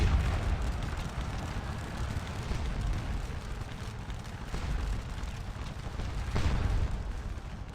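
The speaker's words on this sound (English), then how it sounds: "Lieutenant Colonel Sir Robert Hill's artillery." Distant, rumbling artillery fire in a Napoleonic battle game, a continuous low roar of booms with one stronger blast near the end, no talking.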